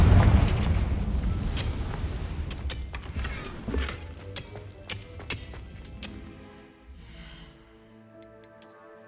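A Confringo explosion spell cast in the Hogwarts Legacy game bursts with a loud booming blast, followed by crackling pops and debris that gradually die away into a tonal magical shimmer and a final small pop.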